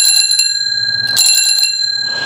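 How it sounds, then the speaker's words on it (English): A classic stainless steel bicycle bell with a thumb striker rings in bright, clear metallic dings, a quick burst of strikes followed by a second flurry, the tone sustaining close and loud throughout. "So this is a classic bell. This is all stainless steel, and it does have a nice little thumb striker here"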